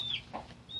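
Chickens and a rooster give a brief, faint cluck and squawk inside a coop, a quiet snippet of farmyard fowl.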